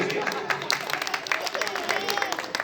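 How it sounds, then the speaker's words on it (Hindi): Applause from the audience at a live Khatu Shyam kirtan in a dharamshala in Hisar, Haryana: a steady wash of clapping running under a voice that talks over it throughout. "जोरदार तालियों से"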